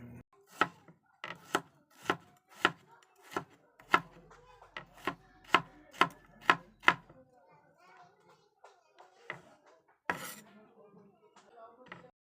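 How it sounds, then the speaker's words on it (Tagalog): Knife chopping peeled ingredients finely on a board for marinating milkfish, about ten sharp, evenly spaced chops close by, then a pause and one more cut. "hiwain lang po ito ng medyo pino para mas madali pa natin itong i-massage mamaya sa ating bangos"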